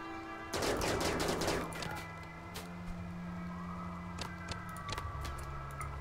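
Colonists in the RimWorld video game open fire in a dense burst of rapid gunshots, followed by a few scattered single shots over a low steady hum.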